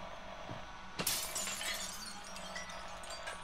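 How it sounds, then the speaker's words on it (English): Glass breaking in a video game, a sudden sharp shatter followed by a tinkling spray of falling shards that fades over a couple of seconds, close and distinct with no talk over it. "Can you break the glass?"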